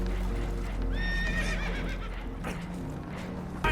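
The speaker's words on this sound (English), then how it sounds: "Horses are spooked, and we're taking on water." Spooked horses aboard a damaged boat that is taking on water in Red Dead Redemption 2. One horse gives a sharp, shrill whinny, with hoof clatter and a rough, noisy background rumble, and no talking.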